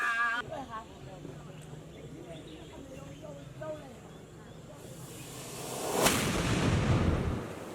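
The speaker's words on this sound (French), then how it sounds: "C'est un genre de canon qui accompagne l'événement du Bukut." Ceremonial Pumben cannon fired as a signal during the Bukut initiation festival at Balingore, a single sudden loud blast that fills the scene after quieter voices and ambient murmur, followed by a lingering rumbling tail.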